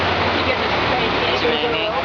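Heavy rain pours down at Disney MGM Studios, a dense, steady hiss of water filling the space with no break, close and loud, with a faint murmur of voices beneath it.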